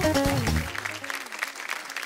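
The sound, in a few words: audience applause on a TV show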